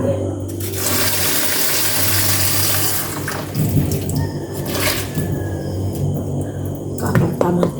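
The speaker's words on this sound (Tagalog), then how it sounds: "Lagay ko na tubig." Water pours loudly into a cooking pot in a home kitchen, a steady rushing gush that tapers into splashes and trickles, with faint talk around it.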